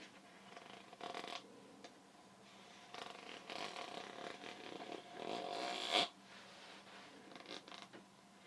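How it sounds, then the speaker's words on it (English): A zipper sounds quietly in a calm relaxation setting, with soft scattered rasps and a sharper zip near the end, close and faint with no talk. "Sounds like a zipper."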